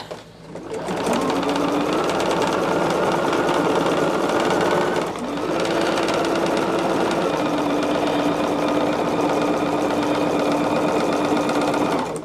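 A sewing machine in a home sewing room runs in a long, steady, fast-stitching hum, with a brief pause near the middle before it starts up again, loud and close.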